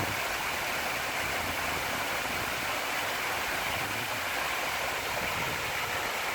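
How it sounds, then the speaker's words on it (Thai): A small waterfall rushes steadily, a dense, even hiss of flowing water that stays constant throughout with no voices. "น้ำตกขนาดเล็ก"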